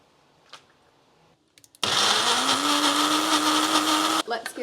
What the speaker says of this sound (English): I think that's everything into the blender. So I'm going to give it a blend